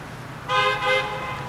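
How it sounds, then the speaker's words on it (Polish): A car horn honks in two close blasts, the second slightly shorter, sounding fairly near over quiet street background. "Oj, ktoś trąbi."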